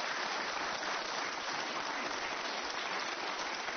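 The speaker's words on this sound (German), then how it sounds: "hier Applaus nochmal" A television studio audience claps in a dense, steady roar of applause, loud and sustained from start to finish with no voices on top.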